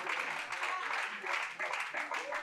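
A church congregation claps and cheers in acclamation of Jesus, a dense, steady wash of applause mixed with voices calling out, lively and sustained throughout.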